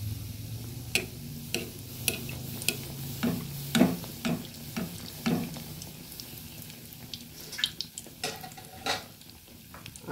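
Malpua, sweet semolina and flour pancakes, frying in oil for a winter treat, with a steady low sizzle broken by repeated sharp clicks and taps of a utensil against the pan, close and moderately loud, no talking.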